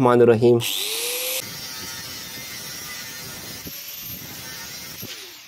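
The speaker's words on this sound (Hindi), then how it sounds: "ये मैंने ग्राइंडर के ऊपर पेपर डिस्क लगा लिया" Angle grinder fitted with a thin cutting disc slicing through 16-gauge sheet metal: a sharp burst as it bites, then a steady, high-pitched mechanical whine that holds and slowly tapers off, close and loud.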